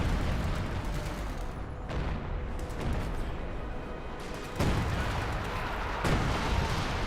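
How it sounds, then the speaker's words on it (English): Artillery barrage in the Company of Heroes 2 video game, a dense, continuous rumble of heavy booms and blasts with repeated impacts, loud and sustained throughout. "Here comes artillery barrage."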